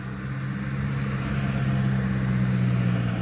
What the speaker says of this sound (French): Regarde la route, les voitures.